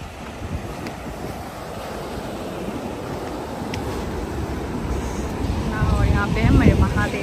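Sea waves washing against the coast at Dwarka, a steady rushing surf mixed with wind buffeting the microphone, building louder toward the end, with people talking over it.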